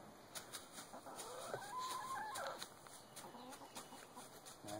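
Backyard chickens cluck softly in a coop while straw bedding is spread, a few scattered low calls over faint rustling.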